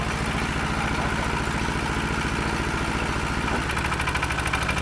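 A diesel tractor engine (ET95) chugs at a steady idle up close, driving a 12.8 kW brushless generator for a 3-phase well pump, loud and rhythmic, with a slight shift in its throb toward the end.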